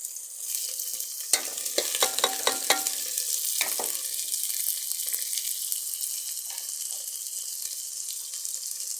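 Onions and green chilies sizzle steadily in a pan for chicken liver soup, a continuous bright frying hiss with a few sharp clinks and stirring scrapes early on, no talking.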